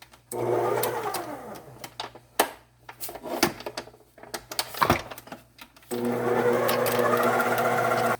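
Electric mixer whirring steadily through cream cheese icing for an Italian cream cheese cake, a continuous motor drone that drops out in the middle with scattered clatter and returns strongly at the end.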